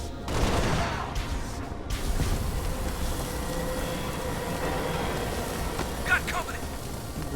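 Gunfire in Halo: Spartan Assault on Xbox One comes as dense rapid bursts over a rumbling game soundscape, steady and loud, with a few sharper blasts standing out.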